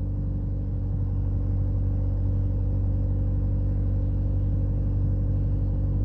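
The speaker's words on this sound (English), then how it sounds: "Start the engine, allow it to idle, which it is doing. Take it up to 1500 RPM." A VW Passat with the CBB diesel engine held at a steady 1500 RPM, giving a loud, constant low rumble and drone that stays even throughout with no speech.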